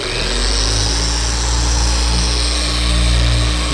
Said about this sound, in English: I'm just gonna let the polisher kind of do its work.